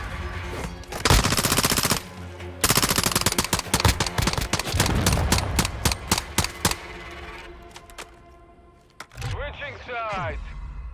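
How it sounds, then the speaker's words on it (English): Rapid automatic gunfire and bursts from a Call of Duty: Modern Warfare II multiplayer match, loud and dense with sharp repeated shots, fading toward the end as a voice talks over the last seconds. "Taking enemy fire!"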